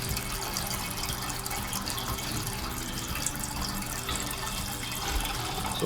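Gasoline pours steadily into the 5-gallon tank of a Craftsman 3500/4350-watt gas generator, a continuous close splashing liquid rush that holds level for several seconds with no talk.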